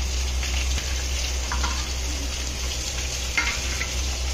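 Pre-fried fish pieces going into a sizzling pan, a steady close frying hiss with a low hum underneath and a few soft clatters of the fish being added, no talking.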